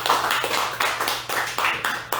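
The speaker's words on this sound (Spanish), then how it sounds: "Dese un aplauso a usted mismo" A church congregation applauds, giving a short burst of rhythmic clapping with roughly regular claps, moderately loud and without speech.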